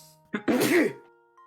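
A single close sneeze, a short sharp burst with a brief voiced lead-in, heard during a Professor Layton and the Curious Village puzzle session over a quiet background.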